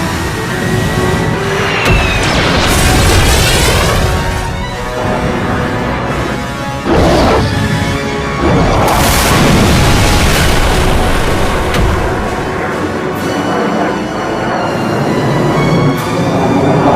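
Weapons firing in a military strategy game, with heavy booms and blasts piling up loudly and continuously across the whole stretch amid dense layered battle noise, no voices.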